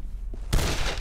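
A sudden burst of gunfire in Condemned: Criminal Origins, a single loud, close crack that lands halfway through and leaves a bright, noisy tail.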